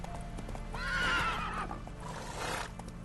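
Horse hooves clip-clop at a steady pace while the horse lets out a clear whinny, all set in a Witcher 3 game world with constant background ambience.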